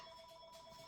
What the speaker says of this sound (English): You could hear the phone ringing in the background.